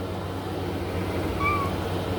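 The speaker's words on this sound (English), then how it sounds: "And there's my little kitty cat." A house cat lets out a single short, thin meow indoors midway through, faint against the steady hum of an air conditioner.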